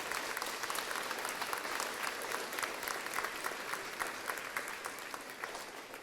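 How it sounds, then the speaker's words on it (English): An audience at an elementary school graduation claps in a sustained, dense round of applause that holds steady throughout and eases slightly toward the end. "let's give all those people a round of applause"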